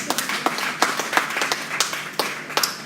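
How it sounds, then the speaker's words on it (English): Applause for Mrs. Sonia Harrison at a teachers association's 60th anniversary function: a small group's sparse clapping with distinct, irregular individual claps rather than a dense roar, moderately near and without talk. "Give her a big round of applause for me."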